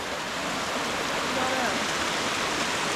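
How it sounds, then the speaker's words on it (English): Small waterfall in Clocaenog Forest, a steady, dense rush of falling water that fills the scene evenly at close range with no pauses and no other sounds. "I've never seen such a pesky waterfall in all my life."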